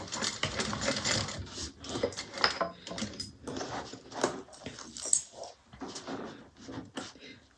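A sewing machine stitches a Brunella bag, a close, busy mechanical chatter of rapid needle strokes with small clicks and rattles that runs on with slight variations in pace.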